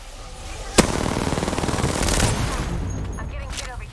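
Rapid automatic gunfire in a multiplayer shooter video game, a sharp opening shot followed by a dense sustained burst of close fire that gradually fades, with a player talking over it.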